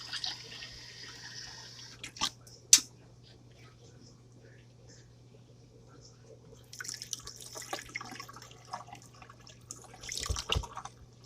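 Water runs and splashes intermittently in a sink as rice is rinsed, with scattered drips and clinks, a quiet hum underneath and a voice speaking briefly.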